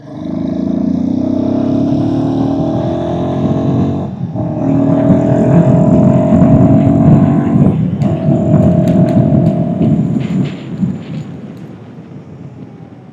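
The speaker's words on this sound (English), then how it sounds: "let me just give you a quick glimpse of the kind of acceleration power this vehicle has" A Royal Enfield Guerrilla 450 motorcycle's Sherpa engine revs up loudly, with a short drop between gears before climbing again, then fading slightly toward the end.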